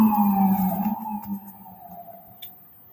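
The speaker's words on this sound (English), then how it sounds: "You hear ambulance?" An ambulance siren on a city boulevard, heard as a steady wailing tone that slowly falls in pitch, moderately loud and somewhat distant, with street noise around it.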